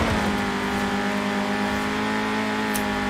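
A 1991 Peugeot 205 Rallye engine in Forza Horizon 4 howls loud and close at sustained high revs, a steady buzzing drone under race driving with a brief faint tire noise near the end.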